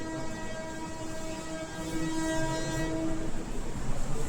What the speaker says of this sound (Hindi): रेलवे लाइन पे कोई खड़ा भी नहीं रहता है तो ये हॉर्न किसको मारते हैं सर